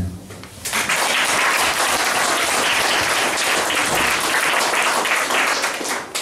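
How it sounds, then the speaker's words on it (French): An audience at an exhibition opening applauds children: after a brief pause, thick, loud, sustained clapping fills the room continuously until the end. "on peut encore applaudir une fois de plus les enfants"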